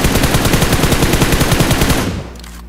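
Rapid automatic gunfire in the mobile shooter PUBG Mobile, a loud close burst of evenly spaced shots lasting about two seconds before cutting off abruptly.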